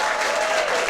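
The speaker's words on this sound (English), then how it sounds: "Give yourselves a round of applause for seeing a live show." Applause from a comedy club audience at a live stand-up show, a short burst of dense, steady clapping filling the room with no talk over it.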